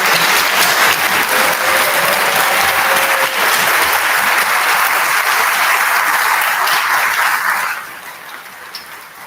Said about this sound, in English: Seniors, can you stand up and let's give them another round of applause.